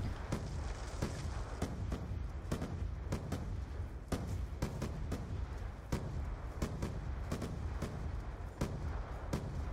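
Grenades explode over and over in Black Ops 2 gameplay, a rapid series of sharp blasts at irregular intervals over a dense, loud rumbling battle background.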